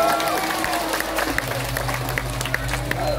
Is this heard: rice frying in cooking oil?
no